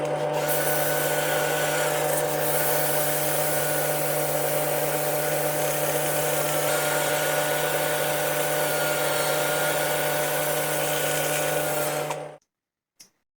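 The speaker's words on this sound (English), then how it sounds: "I'm going to sand it up a bit now" Laburnum wood spinning on a lathe while being sanded gives a steady, loud motor whine with a continuous abrasive hiss that runs for about twelve seconds, then cuts off abruptly into silence.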